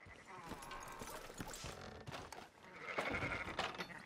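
Sheep bleating in Red Dead Redemption 2, a few bleats among soft livestock shuffling and hoof sounds, fairly quiet, with a voice talking nearby.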